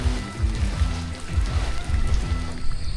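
Steady rain falls in a rural Vietnamese village near the Lao border, a dense continuous patter with uneven low thumps of drops striking nearby surfaces, fairly close and with no talking.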